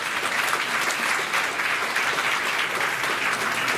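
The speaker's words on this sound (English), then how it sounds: "Let's give the brother and sister a big round of applause." An audience at a school board meeting claps in sustained, dense applause, steady and fairly loud for the whole stretch with no talking.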